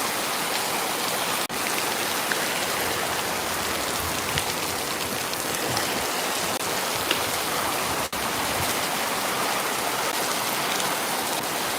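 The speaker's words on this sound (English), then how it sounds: "Rain is heavy, very heavy." Heavy rain pours steadily over plants and nearby surfaces, a dense, continuous hiss of drops close by that holds loud and even throughout with no talking.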